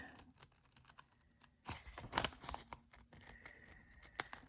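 Scissors snip around a piece of journal card paper, giving sparse, quiet crisp cuts and paper rustles, with a louder burst of crinkling and handling partway through.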